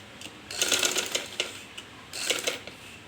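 A sewing machine stitches a fabric band in short, close mechanical rattling runs with a brief lull between them, moderately loud and unaccompanied by talk.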